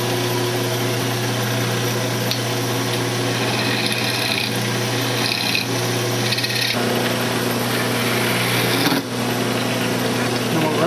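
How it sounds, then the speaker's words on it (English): A wood lathe parts off a turned wooden tea-light candle holder, a steady high-pitched motor whine running close and loud throughout, with a brief dip near the end as the cut finishes. "Let's go ahead and part it off."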